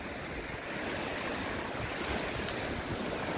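Sea waves wash onto the beach at Port Said as a steady, broad roar of surf with some wind noise, continuous and fairly distant, without talk.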